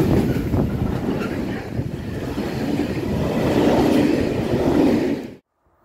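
A freight train loaded with timber rumbles steadily past on a Slovak-Hungarian line, a loud continuous roar with wind buffeting the microphone, cutting off abruptly at the end.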